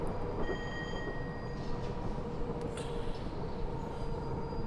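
A Class 421 electric train rolls along the Chatham Main Line in Train Simulator with a constant dense rumble and rail noise. Faint high whines and a squeal run over it at an even loudness throughout.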